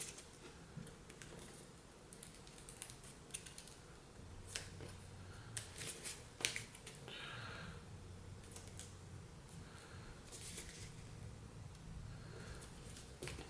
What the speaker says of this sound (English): So take that edge, fold it to the center line